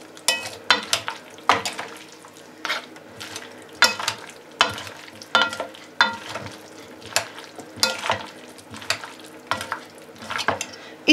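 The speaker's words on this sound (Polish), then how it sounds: "Kolejny raz musimy wszystko przemieszać, żeby się ta sałatka z tym majonezem nam dobrze, z tym dipem dobrze wymieszała" A spoon stirring a tortellini salad with mayonnaise dip in a bowl, giving regular clinking scrapes and wet, squelching turns at an even pace, close and clear with no talking.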